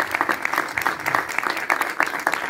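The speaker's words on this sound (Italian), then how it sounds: "Quindi complimenti e un applauso di incoraggiamento." Encouraging applause from a cinema audience at a screening with local actors, a steady crowd of many hands clapping at moderate loudness, dense and continuous for a couple of seconds with a faint voice underneath.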